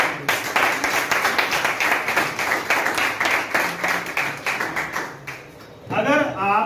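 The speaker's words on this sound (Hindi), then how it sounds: "जोरदार ताली बजा दो" Seminar audience clapping loudly together in a fast, rhythmic burst of many hands that stops near the end, after which a voice speaks.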